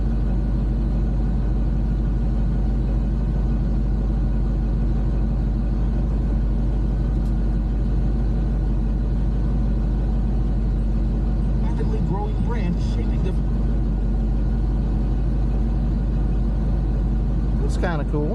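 Air conditioning blower running in a 1988 Pontiac Firebird, a steady broadband rush of air over the low, even rumble of the idling engine, close and continuous, with people speaking briefly and a short whistle-like squeak near the end.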